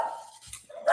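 A dog barks twice, close and fairly loud, a short sharp bark near the start and another at the end, with a brief quieter gap between them.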